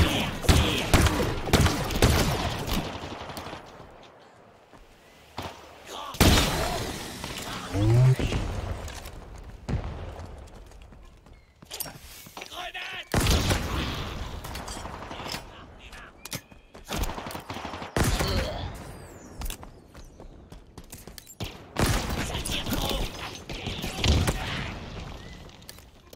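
Rapid bursts of gunfire and firefights in the shooter game Halo Infinite, sharp clusters of shots repeating throughout amid occasional thuds and explosions, with intermittent talking in between.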